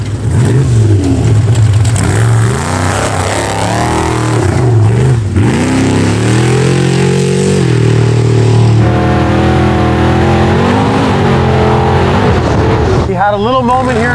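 A Trophy Bug rally car on a night hot lap, its engine loud and close, revving and accelerating through rising and falling gear pulls, with voices talking over it.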